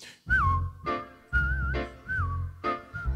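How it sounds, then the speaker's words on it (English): Someone whistles a tune with wavering notes during a church service, a few short phrases with pauses between, close and clear over low background sounds. "Keep whistling."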